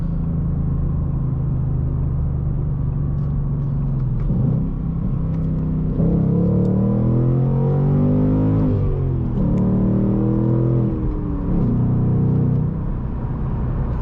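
A 2019 Ford Mustang Bullitt's V8 engine rumbles and revs up repeatedly, exhaust roaring in track mode as it accelerates through the six-speed manual's gears, loud and close with no talking.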